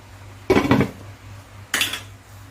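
A lid set onto a pot of lentils: two short metallic clatters, the first longer and rattling, the second a brief clank about a second later, close by over a low background hum.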